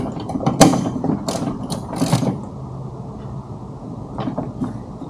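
A ratchet tightening a bolt while refitting a horn on a 2019-or-later Mercedes Sprinter: close, rapid clicking bursts, then a quieter stretch with a few more clicks.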